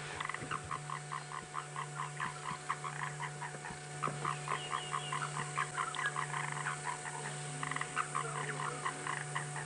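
A grey tree frog, also called a foam nest frog, calls from the water at sunset on an African safari drive: rapid repeated clicking croaks in steady bursts, fairly close, over a low constant hum.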